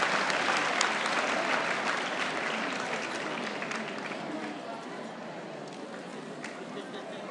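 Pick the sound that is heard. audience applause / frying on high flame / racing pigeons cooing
audience applause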